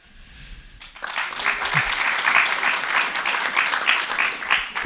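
Audience clapping at a local election candidates' meeting in Borgarnes, Iceland, starting abruptly after a near-silent moment and swelling into steady, full applause from a roomful of people.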